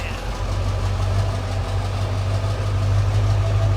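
Ford F550 truck engine, fresh from a dash swap, fires up and settles into a steady, close, rumbling idle that runs without a break, with a faint voice briefly over it.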